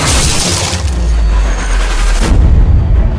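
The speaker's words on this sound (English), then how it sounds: "As your first shots ring out" Heavy gunfire in a World War II shooter against the Afrika Korps, loud booming shots and cracks packed densely together across a few seconds, with no talking.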